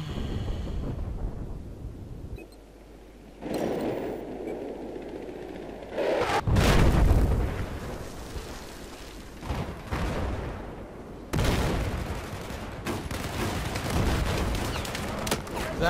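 Battlefield 4 gunfire, several loud bursts of shots with a heavy blast near the middle and more shooting afterward, filling the whole stretch, with a voice talking over some of it.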